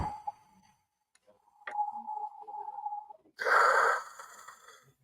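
A person imitates wind with breath: a thin, hissing whoosh rising and falling, then a louder breathy rush toward the end, close and otherwise quiet.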